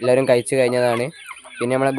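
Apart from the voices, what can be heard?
None of the usual background noises is heard.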